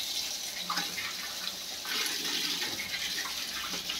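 Running water pours steadily while a fish is washed, a soft continuous splash with faint handling noises, fairly quiet throughout.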